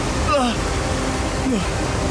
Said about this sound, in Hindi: असल में पानी बार बार घूम रहा है